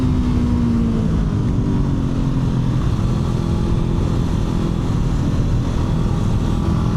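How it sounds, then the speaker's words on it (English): A 2025 Honda CB500F with a 471cc parallel-twin engine revs hard up a hill toward its rev limiter, a steady, loud, droning engine note heard close with no talking. "I am running into that rev limiter earlier than I expect"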